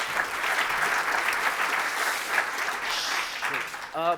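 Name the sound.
round of applause for Bruno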